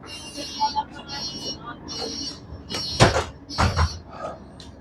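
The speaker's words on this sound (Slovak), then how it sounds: "Otvárajú sa dvere." City bus doors open with a short mechanical hiss and clunk, close by inside the vehicle, while someone talks over the hum of the bus interior.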